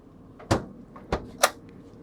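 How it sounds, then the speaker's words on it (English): Refrigerator doors in a 2021 Fleetwood Discovery LXE 36HQ motorhome swing open, giving three short, close clicks and thumps of latches and hinges in a quiet interior. "we have access to our refrigerator. Doors open up almost fully."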